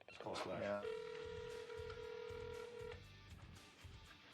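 A telephone being dialed gives a quick run of keypad tones, then one long steady tone that holds for about two seconds, heard close with people talking around it.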